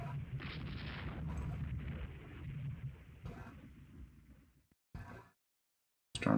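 Heavy naval gunfire in the Rule the Waves 2 game, deep rumbling booms rolling together, then fading out before a sharp new blast at the end, with no voices.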